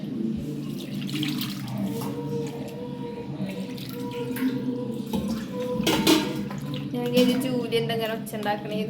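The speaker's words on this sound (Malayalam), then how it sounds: "അതിന് വേണ്ടി നമ്മൾ കുറച്ച് വെള്ളം ചേർക്കണം" Water is poured into a pan of chicken, a close splashing trickle with a few clinks of the pan, while people talk over it.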